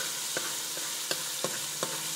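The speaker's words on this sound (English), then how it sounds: "I'm going to allow it to fry to a golden brown color, but we do not want it to burn at all" Djon-djon spaghetti frying in a pot while it is stirred: a steady close sizzle with a handful of sharp scraping stirs at uneven intervals, and no talking.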